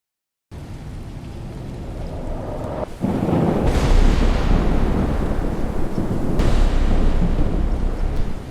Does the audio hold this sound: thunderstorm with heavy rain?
yes